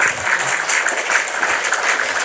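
An audience breaks into applause for a friar speaking for native rights, a loud, dense patter of many hands clapping continuously at close range.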